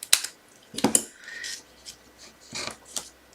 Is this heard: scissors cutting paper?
yes